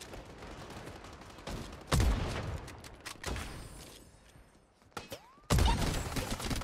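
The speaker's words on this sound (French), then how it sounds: "Le bruit du snipe est incroyable par contre." Sniper rifle shots in the first-person shooter game Strinova, two loud sharp cracks with booming tails a few seconds apart, over softer game ambience.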